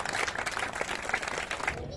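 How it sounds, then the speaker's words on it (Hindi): Applause from an event audience at a Chitragupta puja cultural programme and honours ceremony, a steady dense patter of clapping filling the short stretch, heard fairly close and loud. "एक बार जोरदार ताली"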